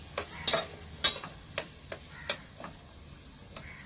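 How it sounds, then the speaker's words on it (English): A crispy cheese sandwich fries in a pan, giving a soft steady sizzle broken by a series of sharp ticks and pops at irregular intervals, fairly quiet and close. "that's frying very nicely"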